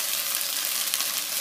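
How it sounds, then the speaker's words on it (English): Steady, dense sizzling of cauliflower gnocchi and summer sausage frying and browning in a pan, a continuous crackle with no talking. "they're frying up very, very nicely. They're getting nice and brown."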